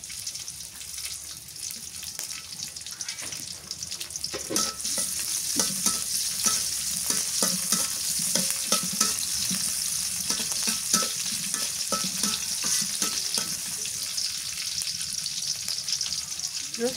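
Green chilies fry in soybean oil with a bright, continuous sizzle that grows louder after a few seconds, mixed with frequent stirring scrapes and occasional splattering pops, close up and without talk.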